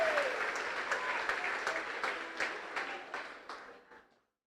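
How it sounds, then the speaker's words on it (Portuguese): A church congregation applauds at a Pentecostal service, steady dense clapping that stays fairly even and then fades out near the end. "Pode aplaudir."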